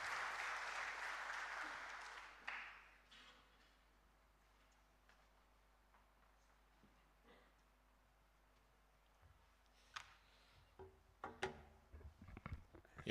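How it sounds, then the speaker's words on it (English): Audience applause at a job fair at the University of Nairobi. It starts loud and dense, fades quickly after two seconds, and scattered claps and knocks follow near the end. "A good hand clap as he makes his way."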